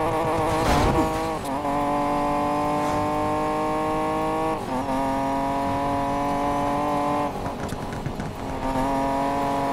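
The maxed-out Derelict drag car roars through a race in Need For Speed Payback, its engine holding a loud, steady high-revving whine. Brief dips mark the gear shifts.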